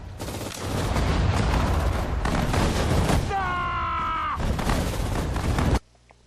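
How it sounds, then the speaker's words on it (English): Loud, dense artillery support fire in the Sudden Strike 4 war game roars for several seconds in continuous blasts, briefly broken by a whining tonal effect, then cuts off sharply. "Getting this artillery support is kind of huge"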